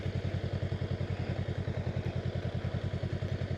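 A 2025 Honda Rebel 500 motorcycle rolling slowly around a parking lot, its engine giving a steady low, even thumping pulse at near-idle speed, close and continuous with no talk.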